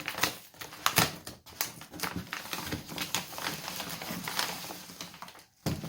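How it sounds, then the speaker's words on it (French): Parcels of Peugeot 103 RCX moped parts are unpacked nearby, with crinkling packaging, tearing and scattered clicks and thumps in irregular bursts, fairly close, with no talk. "on est parti pour commencer à déballer les colis."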